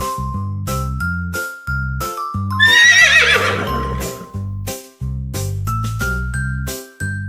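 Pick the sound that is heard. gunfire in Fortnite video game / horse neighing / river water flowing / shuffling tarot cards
horse neighing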